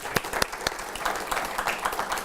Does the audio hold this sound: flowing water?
no